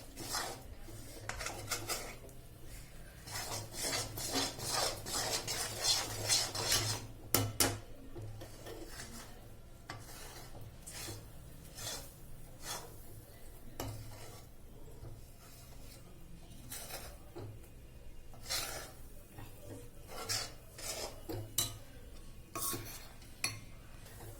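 A spoon scrapes and clinks against a pan as a ghee-rich gram flour Mysore pak mixture is stirred continuously at its final stage, producing steady close scraping with sharper metallic taps, no voices.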